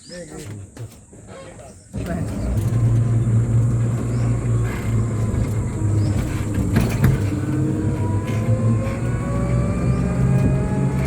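Riding in an electric rickshaw on the way to the ancient caves at Khajuraho, a steady rolling hum and road rumble that picks up after a couple of seconds of chatter and continues with passing traffic.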